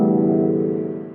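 A single guitar strum rings out as a full chord, close and clear, sustaining for about a second without any voice.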